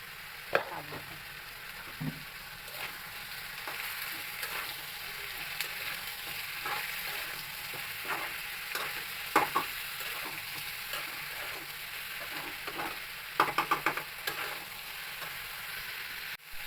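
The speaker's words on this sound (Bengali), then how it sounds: "তো এই তো তেল মশলার সাথে ভালো করে আমি কষিয়ে নিচ্ছি।" Raw green banana frying in oil with spices, stirred now and then, giving a steady close sizzle broken by scraping spoon strokes against the pan; no voices.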